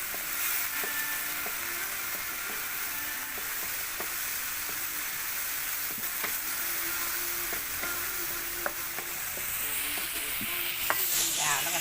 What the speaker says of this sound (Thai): คั่วปอพริกหอมนะเจ้า